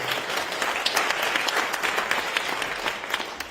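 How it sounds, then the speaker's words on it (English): An audience at a public meeting about Mt. Bachelor applauding its sponsors, brisk dense clapping from a roomful of people, steady throughout with faint murmurs beneath. "let's give a little round of applause to Visit Bend and all sponsors"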